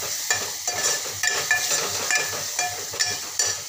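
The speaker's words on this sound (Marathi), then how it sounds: "अर्धा चम्मच मीठ घालते व छान याला एकजीव होईपर्यंत मस्त असं परतून घेते" Chilli powder, turmeric and salt sizzle in hot oil for a Marathi dal tadka, stirred with regular scraping strokes about every half second over a steady close fry.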